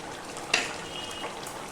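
A red amaranth stem curry frying in a pan gives a soft, steady sizzle, broken by one brief scrape of a stirring utensil.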